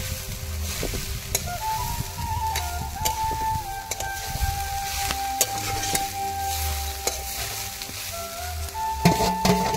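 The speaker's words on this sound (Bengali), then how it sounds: "শাক আর শুকনো লঙ্কা এই যে ঢেলে দেওয়া হয়েছে।" Greens and dried red chillies sizzling steadily in a pan, a continuous close frying hiss with occasional stirring scrapes and clinks, no voices.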